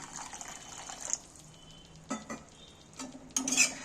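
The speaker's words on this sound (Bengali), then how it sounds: "সামান্য আমি একটু জল দিচ্ছি" Water poured into a pan of sizzling fried chicken masala for chicken badam bahari, giving a few short hissing, splashing bursts between quieter stretches of low simmering.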